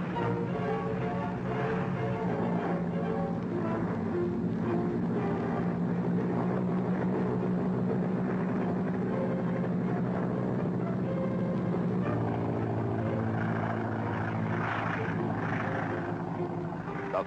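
A 1944 Boeing B-17 Flying Fortress bomber takes off with a continuous, dense multi-engine drone and roar that holds steady throughout, loud and full, with a slight shift in tone partway through and no speech.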